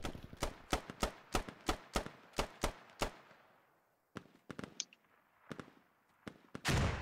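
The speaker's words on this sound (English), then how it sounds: "Speaking of grenades, here comes one. Gets a kill." Explosions and gunfire in the military shooter Squad: a rapid series of about ten sharp, loud blasts, then a quieter pause and more scattered cracks and bangs, ending in a heavy roar.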